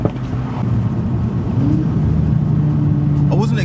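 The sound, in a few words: Stage 2 Audi S3 saloon engine, loud on downshift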